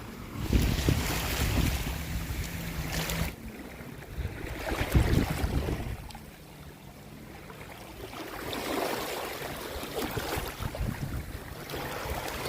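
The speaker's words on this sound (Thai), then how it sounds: "ชมบรรยากาศทะเลเกาะล้านค่ะ" Sea waves wash onto a clean beach at Koh Larn, a surging, continuous wash of surf with heavy gusts of wind noise across the microphone, rising and falling in broad swells over the whole stretch.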